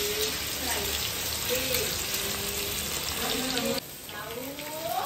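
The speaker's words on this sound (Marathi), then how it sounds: "तर आता तेल तापलंय. आता लसूण घालते." Garlic sizzling as it is added to hot oil in a home kitchen pan, a steady dense crackle that runs continuously and drops slightly in level near the end, with no talk over it.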